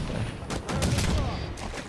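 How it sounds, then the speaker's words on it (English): Rapid bursts of incineration cannon fire in Halo 5 crackle in quick succession, loud and chaotic, with faint voices mixed underneath. "He's got an incineration cannon, Viagonzo."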